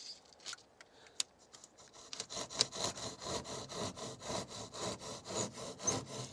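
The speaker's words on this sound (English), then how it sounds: "this one will be hard to saw with the handsaw" Handsaw cutting low down on a construction site, likely through insulation: a steady run of rhythmic back-and-forth strokes after a few scattered scrapes, fairly close and continuous, with no talking.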